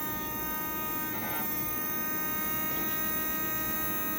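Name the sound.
small electric motor spinning during a battery charger motor-run test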